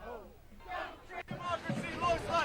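A street protest crowd chants slogans against President Trump's policies, loud rhythmic massed voices rising and falling in short shouted bursts.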